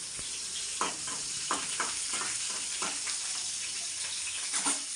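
Long green chillies splutter and fry in hot oil in a home kitchen pan, a steady hiss broken by several sharp popping crackles spread across the moment, with no talking.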